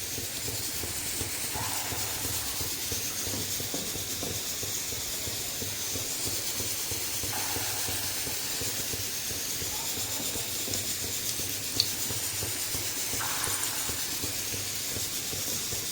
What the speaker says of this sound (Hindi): देखिए बस इसी तरीके से हमने बैटर लेते जाना है, और अपने तेल में ट्रांसफ़र करते जाना है